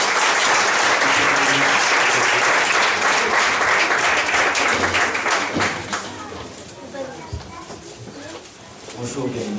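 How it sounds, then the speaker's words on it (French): A church congregation applauds loudly and continuously for several seconds, the clapping fading toward the end while voices and a few calls are heard in the hall. "On va acclamer très fort le Seigneur."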